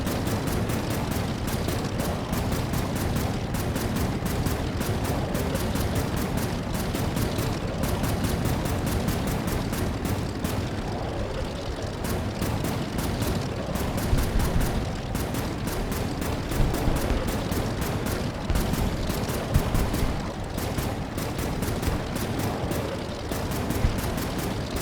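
Missiles and gunfire fill an Air Wars 3 aerial combat game in a dense, unbroken barrage of rapid shots and explosions that stays loud and steady throughout.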